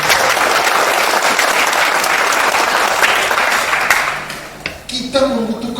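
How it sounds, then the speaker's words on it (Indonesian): An audience at a regional Christian convention session claps loudly and steadily for several seconds before the applause thins out and a voice begins speaking near the end. "Kalau dengan Roh Kudus mesti kencang dong tepuk tangannya."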